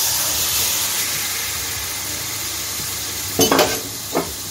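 Chicken pieces fry in a pan over high gas for a dhaba-style chicken fry masala, a constant hissing sizzle with two brief, louder clattering stirs near the end.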